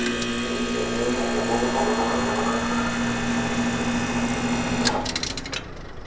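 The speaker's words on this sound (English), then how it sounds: "My compressor and my fan both came on, so install successful" A home air conditioner's compressor and condenser fan start up after a hard start capacitor is replaced, a steady motor hum with a strong low drone that runs evenly and then cuts off near the end.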